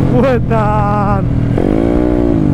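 A Yamaha Mio motorcycle tuned to 200cc and 25 HP revs on the throttle, its engine note rising and falling in droning harmonic sweeps up close, with someone talking over it.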